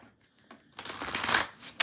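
Tarot cards being shuffled up close, a quiet start followed by a dense, continuous papery riffle and slap of cards that lasts over a second, with no talking.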